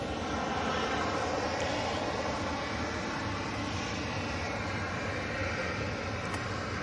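Atlas Air Boeing 747 on a long approach into Manchester Airport, a dense continuous jet rumble and hiss that stays loud and even from start to finish, no voices.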